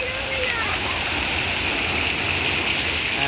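Water flowing steadily through a stream-like channel at an outdoor water park in Ubon, a constant broadband rush with a voice talking over it.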